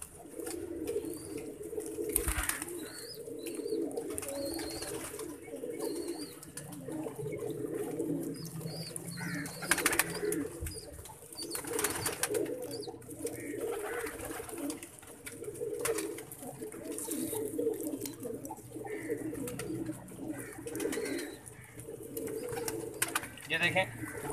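Pigeons coo softly and repeatedly in a loft, a low murmuring layer heard throughout, partly under someone talking nearby.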